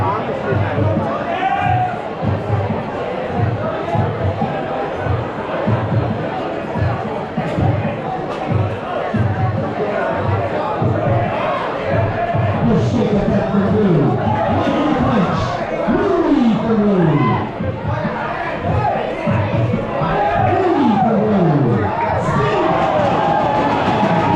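Loud, continuous crowd roar at a live Muay Thai fight on Koh Phangan, with cheering and shouting swelling and surging throughout, and individual voices calling out above the din.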